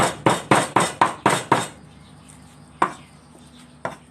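Pork being chopped into mince on a board, a run of seven quick, hard knife thuds at an even pace, then a pause and two more isolated chops, loud and close.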